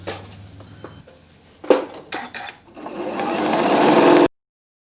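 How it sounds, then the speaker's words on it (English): A sewing machine doing free-motion stippling on a quilted bag starts with scattered taps and handling clatter, then settles into a rising, continuous close whir for over a second before cutting off abruptly. "I got the machine all set up for doing some free motion quilting"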